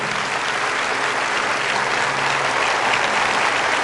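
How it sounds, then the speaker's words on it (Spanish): A congregation at Padre Bernardo Moncada's gathering applauds Jesus with a loud, dense wash of clapping. It holds constant and close for the whole stretch, with no talk over it. "Mejor aplauso que le pueda dar a Jesús."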